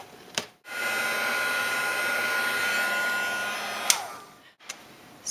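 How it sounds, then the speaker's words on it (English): A heat embossing gun blows steadily over a stamped Christmas card for about three seconds, a close, even whirring drone. Short clicks and knocks sit on either side of the burst. "And then I'm just going to take my heat embossing gun"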